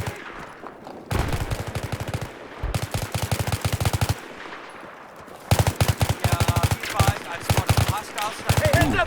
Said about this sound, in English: I have no idea why I'm shooting up there.